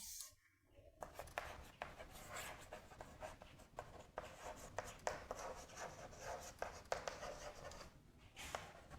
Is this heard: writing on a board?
yes